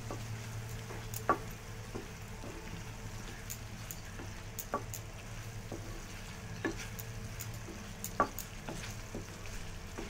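Paneer rice being stirred in a pan: faint, soft scraping with scattered light clicks of a spoon against the pan over a low steady hum, quiet and unhurried.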